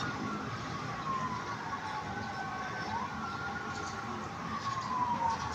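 A wailing emergency siren rises and falls in the distance over constant traffic and street noise, the sweeping tone drifting steadily.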